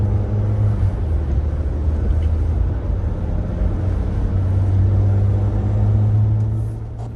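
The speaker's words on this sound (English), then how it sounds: "Here we are driving the 2022 Ram 1500 Limited" Steady low rumble of a 2022 Ram 1500 Limited EcoDiesel pickup truck driving, heard from inside the cabin as a constant droning hum with road noise and no talking.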